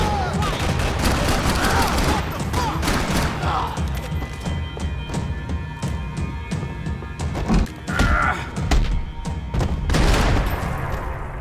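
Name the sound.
gunfire in the video game Max Payne 3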